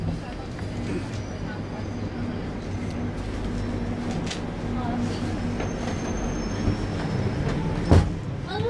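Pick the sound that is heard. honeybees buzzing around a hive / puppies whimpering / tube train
tube train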